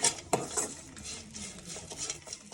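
A utensil stirs spices and turmeric around a pan for goat leg soup, giving soft scraping, clinking strokes and a sharp tap near the start, faint and close with no talk.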